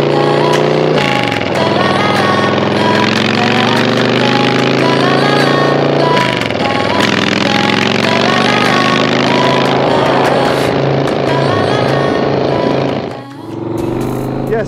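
A used motorcycle's engine is run hard for a pre-purchase check, a loud, continuous mechanical roar. Its pitch climbs, drops back as gears are shifted and climbs again, ending in a short dip and one final burst.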